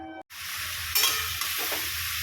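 Chopped bottle gourd drops onto a hot tempering of cumin, bay leaf and dried chilli, and a loud, close sizzle flares up at once and holds steady, with a brief stirring swell in the middle.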